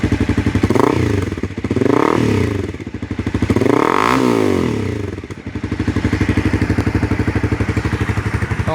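A Honda CBR300R engine revving up and down through a GP can exhaust with a silencer plug fitted, muffled, throaty pulse, close by and loud, settling into a steady idle-like chug.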